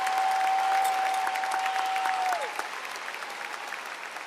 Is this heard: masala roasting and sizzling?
no